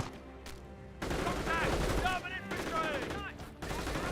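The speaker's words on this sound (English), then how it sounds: "Panzer Grenadiers with STGs engaging" Dense bursts of StG assault rifle fire from Panzer Grenadiers in the Company of Heroes video game, with overlapping shots and impact sounds in a loud battle.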